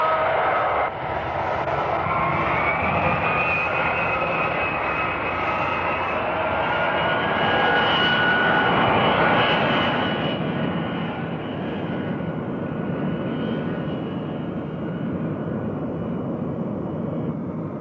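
A jet trainer aircraft roars steadily overhead, a loud sustained engine whine and rushing drone that swells slightly midway and then eases a little as it continues.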